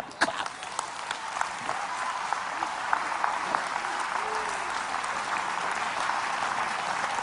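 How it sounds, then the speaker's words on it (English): Dense audience applause from a large sermon crowd continues steadily at moderate loudness throughout, with scattered louder claps near the start and a faint voice underneath. "Clap, clap, clap."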